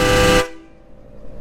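A loud train horn kit fitted to a truck blasts one long, harmonic-rich note that cuts off sharply, leaving a low engine rumble behind.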